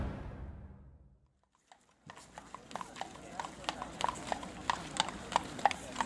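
Hooves of a horse pulling a carriage clip-clop in a steady, quickening rhythm on a hard road, starting after a fading low sound and a brief near-silence, growing louder and closer.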